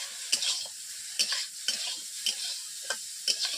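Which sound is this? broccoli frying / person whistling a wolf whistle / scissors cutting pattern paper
broccoli frying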